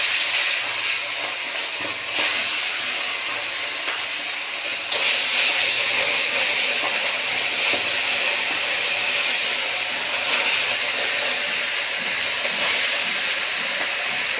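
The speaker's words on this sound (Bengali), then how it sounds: "মাছের মাথা আমি হলুদ লবণ লঙ্কা দিয়ে মেখে নিয়েছি, এগুলো এখন ভেজে নিব" Fish heads coated in turmeric, salt and chilli frying in hot oil for a spinach dish, a loud, continuous hissing sizzle that holds steady throughout.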